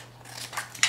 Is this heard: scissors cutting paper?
yes